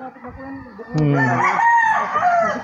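A rooster among farm chickens crows once loudly and close, a long rising and falling call that carries over softer clucking from the flock.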